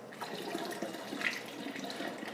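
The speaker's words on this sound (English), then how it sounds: "Go ahead and take your stop bath and just pour it back into the canister." Stop bath is poured back into a black-and-white film developing canister, giving a steady close trickle of liquid that runs continuously for a couple of seconds without talking.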